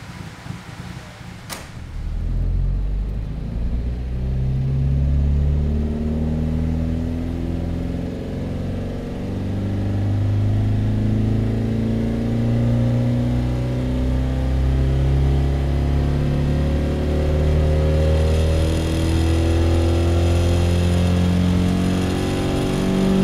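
A Lada car engine revs hard on a dynamometer, loud and sustained for the whole stretch, its pitch climbing in repeated sweeping pulls as the engine winds up and eases back.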